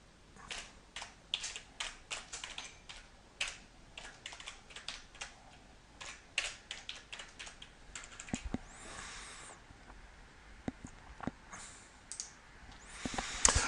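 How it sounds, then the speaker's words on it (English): Someone types on a computer keyboard with quick irregular clicking key taps, close and crisp in a quiet room, with a few brief pauses and bursts of faster strokes. "you would then simply start typing."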